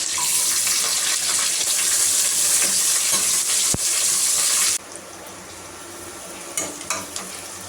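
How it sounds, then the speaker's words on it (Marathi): Onion, garlic, curry leaves and chilli hit hot oil in a pan for sambhar, giving a loud, steady sizzle for several seconds that then drops to a quieter crackle with a few clinks. "आता इथे लसूण टाकायचं आहे, कढीपत्ता, मिरची, कांदा टाकायचा आहे"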